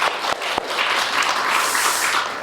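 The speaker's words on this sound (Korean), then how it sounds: "우리 큰 박수로 환영하겠습니다." Steady applause from a church congregation, dense and sustained, with a couple of sharper claps near the start and no pause throughout.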